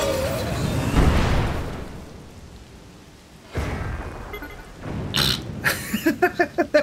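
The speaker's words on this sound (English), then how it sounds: "Now, this rocket is going to work much better." A rocket is launched at a Korok in Zelda: Tears of the Kingdom, with a loud rushing whoosh, a sudden burst, then a rapid series of sharp, rhythmic impact clatters.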